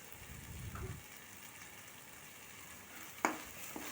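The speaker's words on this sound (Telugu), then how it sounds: "కారం ధనియాల పొడి వేసుకొని కొంచెం ఫ్రై చేసుకోవాలి" Soft sizzling of chilli powder, coriander powder and garam masala frying in a pan, with a brief stirring scrape early on and a sharp clink of a utensil near the end.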